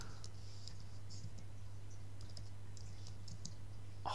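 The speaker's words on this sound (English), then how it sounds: "Just type some text in" Keys on a computer keyboard are tapped in quick, irregular bursts of light clicks, close and soft, over a steady low hum.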